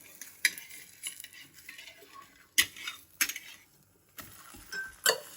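Parotta being heated on a hot oiled pan, with a faint sizzle under repeated sharp scrapes and metallic clinks of a spatula, close by and without talk.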